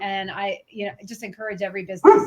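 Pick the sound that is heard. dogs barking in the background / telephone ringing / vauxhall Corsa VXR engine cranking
dogs barking in the background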